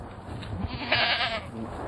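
Goats on open grazing land give a wavering bleat that rises over a low, rumbling outdoor background, one drawn-out call standing clear in the middle of a short quiet stretch.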